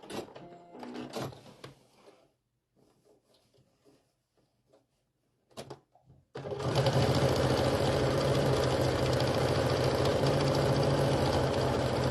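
A sewing machine stitches quilting lines across a striped snowflake pillow with fuzzy appliqué, its steady loud motor whir running continuously for the last half after a few brief, quieter bursts of stitching and handling noises.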